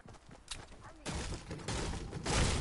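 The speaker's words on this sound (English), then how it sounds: "I hear shooting." Distant gunfire in a PS4 video game, heard as a few faint shots and bursts under soft background noise.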